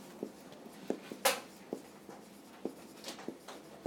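Set notation being handwritten, likely marker or chalk on a board, in a quiet room: a few light, irregular taps and short strokes, with one sharper scrape partway through.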